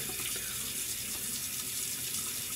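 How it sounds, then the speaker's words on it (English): Cold water runs steadily from a faucet, a constant close-up splashing hiss into a sink with no pauses. "Turned on the cold water."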